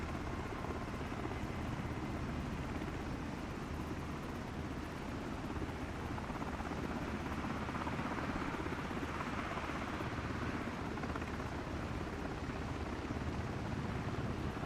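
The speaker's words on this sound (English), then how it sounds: "We got a plane landing off to our left right there." An aircraft in Microsoft Flight Simulator 2024 gives a continuous broad engine roar, steady and loud across the whole stretch with no voices heard.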